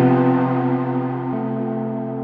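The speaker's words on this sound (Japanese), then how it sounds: "これちょっと歪み系" A guitar chord through the distortion setting of a Quartarone Reveries pedal rings out and slowly decays, with a brief change of notes midway, played alone at moderate level.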